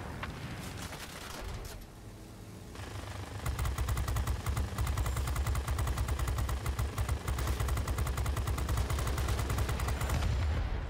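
P-51D fighter in World of Warplanes firing its guns at a B-32 bomber at close range, a rapid, continuous machine-gun rattle over engine drone, starting after a brief lull and hammering on steadily until the end.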